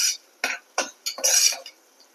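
Onions are stirred and sautéed in a pan for a mushroom gravy: four or five short, bright scraping strokes of a spoon, close and separated by brief pauses, over a faint sizzle.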